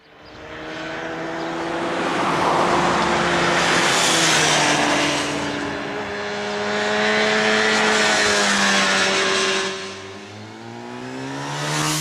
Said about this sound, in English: there is that V4 engine, a little 400 baby VFR engine, obviously, which gives it that lovely note